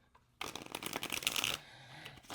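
A deck of tarot cards gets one close riffle shuffle, a dense rattling flutter lasting about a second before tapering off, with no speech.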